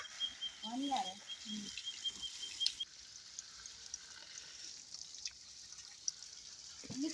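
Water splashes and trickles from a hand pump during summer wheat washing, a soft irregular patter heard alongside nearby speech and faint clanks.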